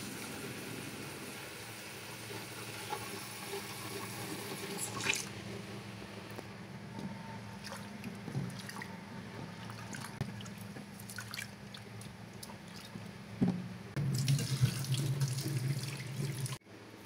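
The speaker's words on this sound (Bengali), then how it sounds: "তারপরে একটু চালটাকে ভালোভাবে ধুয়ে নেব।" Tap water runs steadily into a sink while about two and a half pots of rice are washed for pulao. The stream is continuous and close, with splashing and a louder gush near the end.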